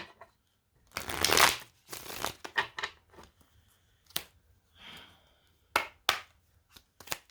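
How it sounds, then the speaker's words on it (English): Tarot cards are shuffled near at hand in several quick riffling bursts, the longest near the start, with softer taps and pauses between, crisp and alone without any talking. "Let's do one more shuffle."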